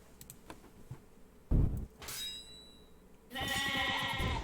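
The Wonder Sheep in the card game Overdungeon lets out short, loud bleating bursts against a quiet background, with a couple of brief game effects between them.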